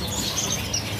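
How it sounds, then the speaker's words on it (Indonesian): A crested laughingthrush at a bird market gives brief chirping calls, faint and high against a soft background hum. "Poksai jambul atau poksai haji."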